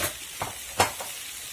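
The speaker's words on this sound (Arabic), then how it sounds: "الكامبا هاد اللي كتكون مسلوقه غادي نشحرها غير شويه" Boiled shrimp frying in a little oil in a pan, with a soft steady sizzle and a few brief stirring scrapes, close and quiet, no voices.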